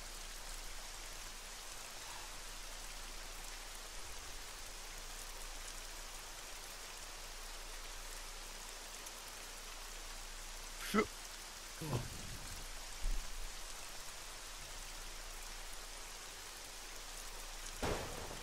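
Rain falls steadily in the video game ArmA 3 as a faint, even hiss throughout, broken by a few brief louder knocks near the end.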